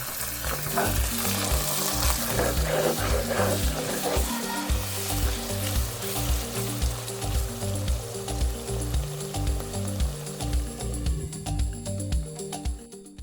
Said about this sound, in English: Add salt and bouillon cubes only to your pepper, then fry until the color turns into deep brown.